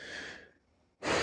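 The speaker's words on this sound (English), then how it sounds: "I'm going to step back, take a deep breath" A deep breath drawn in and let out slowly, a single close, soft airy exhale that fades to near silence before another breath rushes in at the end.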